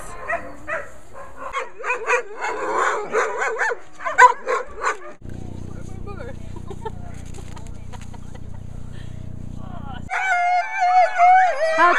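Sled dogs bark, yip and howl in an excited chorus, close and loud, with a steady low rumble for a stretch and people talking intermittently.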